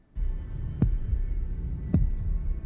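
A heavy, low heartbeat effect from a horror TV series throbs beneath a dull hum, with two distinct thumps about a second apart, loud and close.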